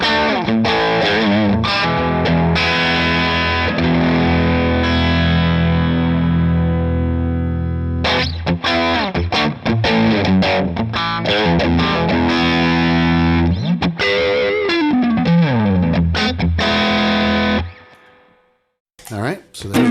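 An electric guitar through a Coppersound clean boost pedal plays boosted, slightly gritty chords and single-note runs with sustain and light reverb, loud and close, ending with a brief pause.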